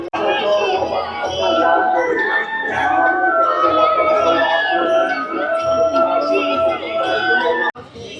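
A dense crowd of pilgrims fills a town square in Pandharpur on Ashadhi Ekadashi with a continuous murmur of many voices, and a nearby speaker talks over the hubbub.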